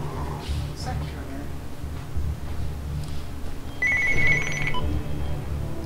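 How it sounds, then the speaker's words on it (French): A telephone rings in a room where a game is being played, its bright repeating tone rising over a steady background hum near the end. "le téléphone qui sonne, c'est vraiment pas le moment"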